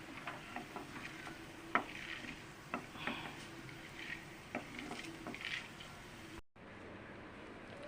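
Ivy gourd pieces with onions fry in a pan, with a soft sizzle under repeated sharp clicks and scrapes of a spatula stirring against the metal, close and fairly quiet, then a sudden cut.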